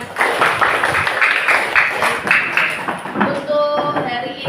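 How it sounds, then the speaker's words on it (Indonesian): A school class gives sustained applause, a dense wash of many hands clapping steadily with some voices mixed in, fading toward the end. "tepuk tangan semuanya"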